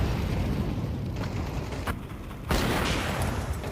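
An HE grenade goes off in a competitive first-person shooter match, giving a loud, dense explosion with a thick rumble and a second sharp burst near the end, up close with no talking.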